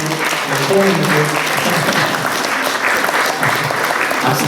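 Loud, continuous congregation applause during an Easter Sunday service at a Korean Presbyterian church while flowers are presented, many hands clapping steadily with voices talking underneath.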